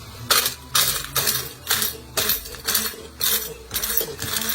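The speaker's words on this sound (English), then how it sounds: "I'm now going to grind these." A hand blender wand grinds whole spices for an Indian-style fish curry in about six loud, close bursts, each a harsh rattling whir separated by short pauses, with no talking.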